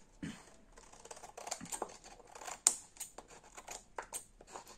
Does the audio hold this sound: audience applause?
no